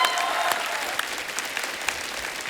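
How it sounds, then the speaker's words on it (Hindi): A studio audience at a television comedy talk show breaks into loud, dense applause that holds steady for a couple of seconds, with a few sharper claps standing out from the wash. "एक बार जोरदार तालियां"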